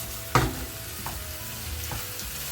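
Grated carrots and sugar for gajar halwa frying in a pan, a soft continuous sizzle with one sharp scrape of a spoon and a couple of lighter taps, close and alone.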